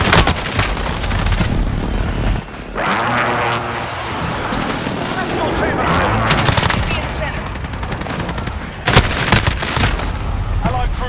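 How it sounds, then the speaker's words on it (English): Explosions from an enemy precision airstrike in Call of Duty: Modern Warfare, with loud, continuous booming blasts and gunfire filling the whole clip and a fresh burst of heavy impacts near the end. "Enemy precision airstrike."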